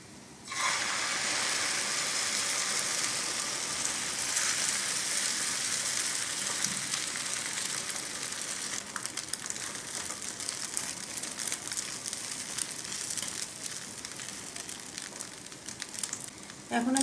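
Beaten egg poured over lightly fried bread sizzles and crackles steadily in a hot pan, a constant close-up frying hiss that continues without pause throughout.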